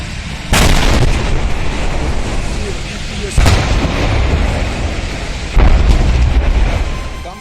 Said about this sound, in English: blaze triggered multiple explosions on site